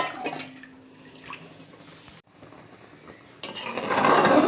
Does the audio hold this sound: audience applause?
no